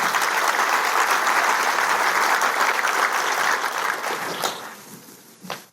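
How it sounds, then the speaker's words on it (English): An audience applauds warmly, dense steady clapping from a room full of people that holds strong for several seconds, then thins out and fades with a few last claps. "Give him a round of applause."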